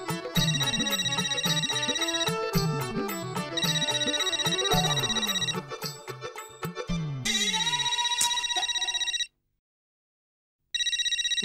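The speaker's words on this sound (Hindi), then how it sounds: "जेठालाल का फोन।" A telephone ringtone chirps in loud, repeated electronic bursts, its melodic pattern cycling for several seconds before a short silence and then starting up again.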